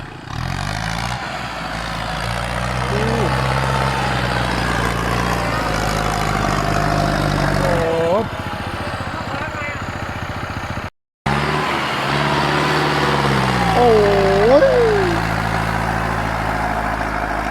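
Kubota M6240 tractor with a turbocharged engine pushing soil from the edge of a rice paddy, its diesel drone loud and steady throughout, with a brief silent break and rising revving strains as it works under load.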